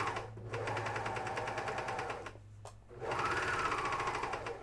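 A Juki MCS-1500 coverstitch machine runs at full speed in rapid, even bursts, briefly pausing mid-run before racing again, fairly loud and close with no talking.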